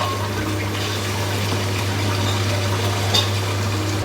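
Water pours steadily into a cooking pot while fish biriyani is being made, a continuous close rushing splash with a low steady hum underneath and no talk.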